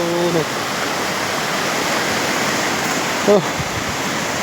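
A river rushes steadily beside its bank, a loud continuous roar of flowing water close by, with brief voices breaking in at the start and again near the end.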